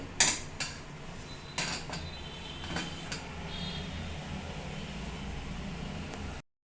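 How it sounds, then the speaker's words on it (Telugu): Batter of Bombay rava and jaggery being scraped out of a pan into a bowl for bellam boorelu, a few close metallic clinks and scrapes of spoon on cookware over a low steady background, with no talking. "ఇప్పుడు ఇది ఒక బౌల్లోకి తీసేసుకుంటానండి"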